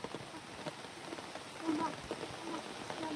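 Soft rain falling outdoors at a home, a faint steady patter with scattered drops and occasional louder taps, no voices over it.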